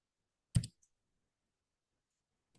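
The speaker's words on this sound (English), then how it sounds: "click on the enter button" A single sharp click, like a mouse button or keyboard Enter key pressed on a computer, lands crisply and close in an otherwise quiet room, followed by a faint second tap at the very end.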